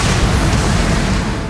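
Explosions tear through the interior of a ship in the video game Starfield, a loud, continuous rumbling roar of deep booms with no break and no voices.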